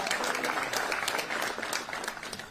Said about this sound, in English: I want everybody to give a rousing applause